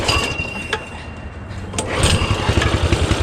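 A Coleman CT200U mini bike engine runs close by with its choke on, a loud, rough small-engine drone that surges and revs harder midway, with no talking.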